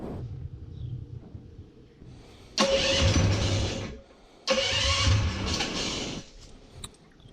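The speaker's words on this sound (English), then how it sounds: "Let's go ahead and fire her up." A street-legal mini bike engine is pulled over twice, each attempt giving a loud, close rough cranking and sputter of a couple of seconds that dies away into quiet.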